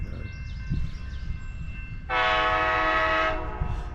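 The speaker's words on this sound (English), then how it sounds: "here comes your southbound train to Los Angeles." An Amtrak Coast Starlight passenger train arrives in Martinez, California, its rumble building before a loud, sustained horn blast of over a second rings out nearby above the rolling rail noise.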